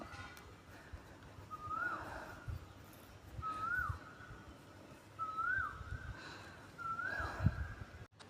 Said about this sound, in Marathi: कोकिळेचा आवाज